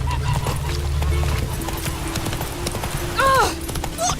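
Hooves clip-clop rapidly as a horse gallops in The Witcher 3: Wild Hunt, mixed with game music and a brief whinny near the end.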